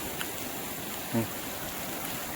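Steady soft patter of rain, a continuous wash of noise with one brief louder splash partway through.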